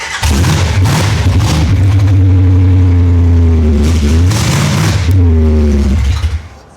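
A supercharged truck engine revs hard up to about 7,000 RPM in repeated loud, rising surges that dip and climb again, heard close up with no talking.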